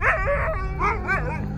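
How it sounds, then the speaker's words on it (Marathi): Dogs bark and yelp loudly at close range in a continuous, overlapping run of calls with some howling whine, heard alone without speech. "कुत्रे अजूनही जोरजोरात भुंकत होते."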